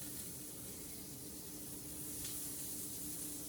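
Butter sizzling in a hot pan while a German pancake with apples is being made, a steady soft hiss and faint crackle with no talk over it.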